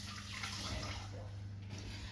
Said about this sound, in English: So I'm just going to get a little bit of water